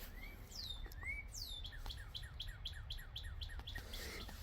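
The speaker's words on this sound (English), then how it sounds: "Hear the birds." Birds chirp and tweet repeatedly at a distance near a small cave at Geronimo Creek, a series of quick rising whistles over a low steady background hum.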